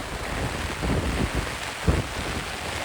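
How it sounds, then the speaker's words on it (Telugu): Heavy rain pours down over a village, a dense, loud, steady roar with gusty low rumbles and wind buffeting the microphone. "హెవీ వర్షం పడుతుంది"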